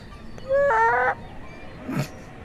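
A voice imitates a chicken being strangled: a short, strained squawk rising into a loud, buzzing, harmonic croak for about half a second, followed by a fainter rasping gasp, with no other talk.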